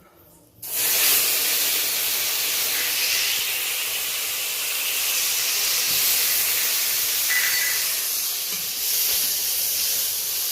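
Black cumin seeds hit hot mustard oil and burst into a loud, sudden sizzle that holds as a steady, close frying hiss.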